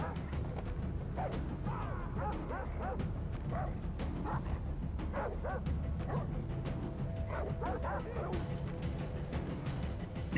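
Dog barking in the video game Far Cry 3, repeated short barks and yips set back in the game's ambient background, moderately quiet and fairly steady.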